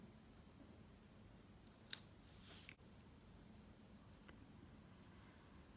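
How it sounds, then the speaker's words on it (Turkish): Scissors snip through a knotted spot of crochet yarn on a baby blanket, a single short, faint cut with a brief rustle after it, then near silence. "Şu düğümlü yerimizi de keselim."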